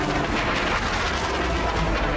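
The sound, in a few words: Iranian missiles rumbling and exploding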